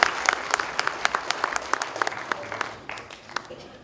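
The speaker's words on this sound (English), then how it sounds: "How about a round of applause and a welcome to Pak Hong." Applause from a technical conference audience welcoming a presenter, with individual sharp claps standing out over a softer crowd wash that gradually thins and fades toward the end.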